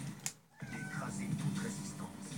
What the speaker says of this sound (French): il y a mon chat là